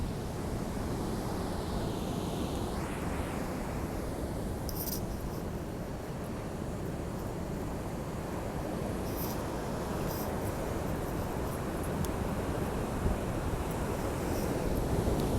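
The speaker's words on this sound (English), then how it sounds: "You can hear the surf, good." Ocean surf rolls in at Santa Cruz in the morning, a soft, continuous wash of breaking waves heard from a distance, mixed with light wind buffeting the microphone.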